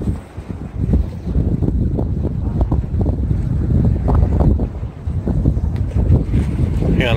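Strong wind buffets the microphone over choppy lake water at Polson, Montana, with wind-driven waves slapping and a steady rumbling roar throughout, no voices.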